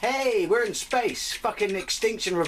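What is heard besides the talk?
No distinct noise like a dog, phone or traffic.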